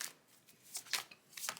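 Tarot cards are shuffled close by in quiet, soft riffling bursts, several short rustling flicks in a row, heard alone.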